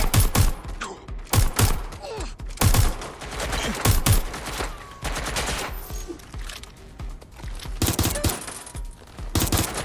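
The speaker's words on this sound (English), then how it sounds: "I'm getting shot at here." Rapid bursts of automatic gunfire and scattered single shots from a firefight in the video game Watch Dogs Legion on a PS4, loud and close, with repeated volleys through the whole stretch.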